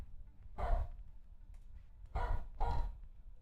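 A dog gives three muffled barks from another room, spaced apart, faint against a quiet indoor background.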